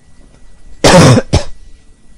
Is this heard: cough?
yes